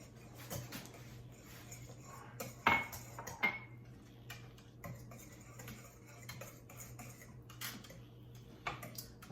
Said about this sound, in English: And I'm gonna stir it all up.